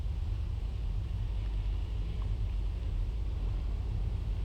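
Dull, continuous rumble of traffic in narrow streets around Dublin's fruit and vegetable market, a steady low wash of vehicles at a distance with no voices.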